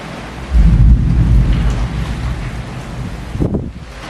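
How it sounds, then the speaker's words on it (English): Heavy pouring rain during a storm with a tornado forming, a dense wash of rain and wind noise swelling loud early and staying steady, with a brief low rumble or gust near the end. "It's pouring rain now"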